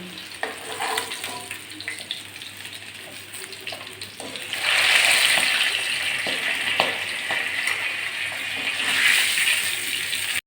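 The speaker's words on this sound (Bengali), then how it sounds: "এবার মাছের পিসগুলো ভেজে নেবো" Tilapia pieces fry in hot oil with a sharp sizzle that swells suddenly partway through and stays loud, with occasional clinks of a utensil.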